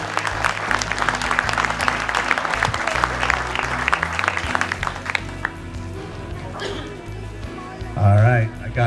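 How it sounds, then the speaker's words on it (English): An audience at a bass fishing tournament award ceremony claps in a dense burst of applause that fades over several seconds, followed by someone speaking. "Give a round of applause for Nick and Ryan."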